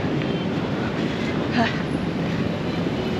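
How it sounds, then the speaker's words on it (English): Steady low rumble of a train rolling along rails in Manila, continuous and fairly loud throughout, with a brief squeak partway through. "And I will take the train back"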